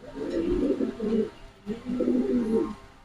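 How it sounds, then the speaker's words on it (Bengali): Boat-beak pigeons in a loft coo at close range, two soft, throaty rolling bursts with a short pause between them and no talk. "বোট ঠোঁটের কবুতর।"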